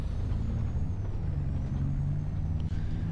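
Semi truck with weak brakes in Farming Simulator slowing down, a steady low rumbling engine with a hissing air-brake tone on top, close and fairly loud, no talking.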